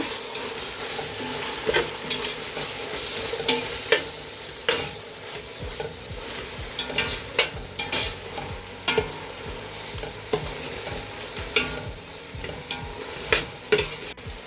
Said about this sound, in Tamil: கொத்தமல்லி புதினா வந்து ஒரு கைப்பிடி போட்டுக்குவோம் நல்லா கிண்டி விட்டுக்கணும்